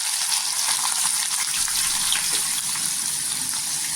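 Two chopped onions frying in hot oil with mustard seeds and cumin, a dense, continuous close hiss of sizzling with faint crackle throughout, no voices.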